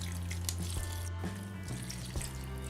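Water poured steadily from a container over pebbles in an aquaponics seed-starting setup, a continuous close splashing trickle.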